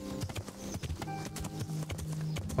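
In the medieval video game Kingdom Come: Deliverance, a horse's hooves clip-clop in a quick, uneven rhythm, faint and mixed with low ambient game sound.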